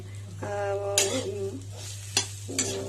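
Boiled potato and peanuts stirred in a pan while making chilli chops, a few distinct scraping strokes of a spatula against the pan over a steady low hum, close and moderately loud.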